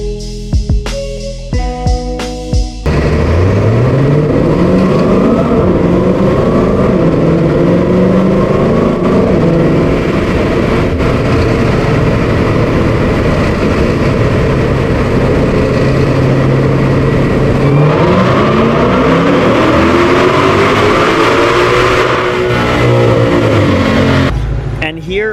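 2020 Shelby GT500 supercharged engine on a dyno with smallest pulley and stock airbox, roaring loudly as revs climb in a long sustained pull with supercharger whine, then dropping off; brief noise at the start.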